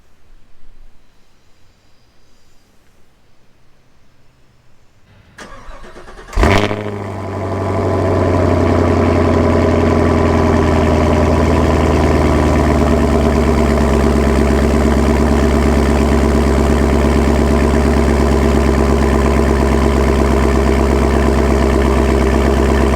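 A 2019 Chevrolet Camaro engine cold-starts, cranking and firing up loudly after a quiet moment, then settles into a steady, rumbling idle that continues close by.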